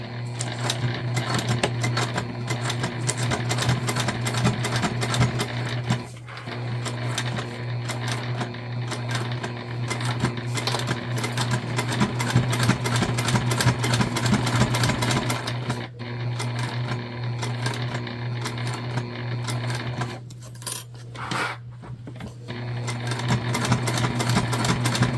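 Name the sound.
sewing machine stitching a shoulder bag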